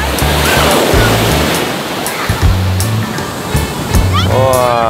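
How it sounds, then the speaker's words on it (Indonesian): Strong ocean surf crashes on a Bali shore, a loud continuous roar of breaking waves with surges, while people talk over it. "tuh ombaknya kenceng tuh ya"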